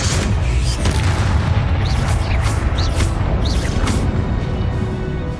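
The Confringo spell in Hogwarts Legacy explodes as a loud, continuous booming rumble with repeated blasts layered over one another throughout.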